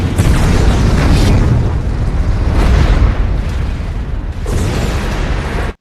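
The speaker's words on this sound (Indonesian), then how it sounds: "menyebabkan kapal minyak tersebut meledak" An oil ship explodes in the film 300: Rise of an Empire, a loud, rumbling blast with roaring bursts that swell and fade over several seconds, dense and close, with no voices.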